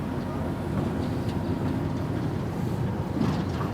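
A museum train reverses past a track switch, producing a low, steady rolling rumble with soft clanks from the wheels and carriage, heard from on board at a moderate level.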